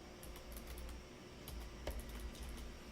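Someone types on a computer keyboard while working in a drawing program: a steady run of light, fairly close key clicks with a few louder taps, and no talking.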